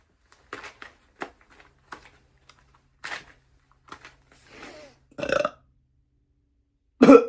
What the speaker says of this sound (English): I've respectably burped and excused myself.